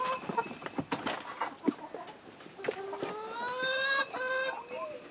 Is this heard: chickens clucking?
yes